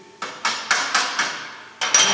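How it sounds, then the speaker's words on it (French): Sharp metallic taps of a small hammer chipping slag off a fresh weld bead on scrap steel, six distinct strikes in an uneven rhythm with short ringing decay, close and fairly loud with no talking. "On vérifie tout ça avec un petit coup de marteau pour enlever le laitier."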